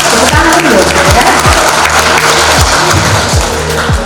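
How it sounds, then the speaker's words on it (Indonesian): Audience at a public event in Poso applauding, a dense steady roar of clapping hands filling the whole clip at a constant, loud level, with crowd noise mixed in. "Tepuk tangan dulu, ya"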